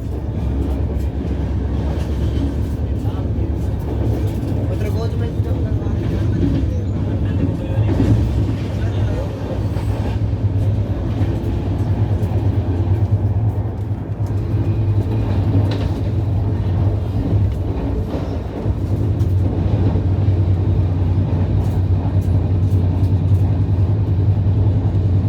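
Pratap Superfast Express, train 12496, running toward Prayagraj Junction with a steady, loud low rumble of wheels and carriage that holds throughout, faint voices mixed into the noise.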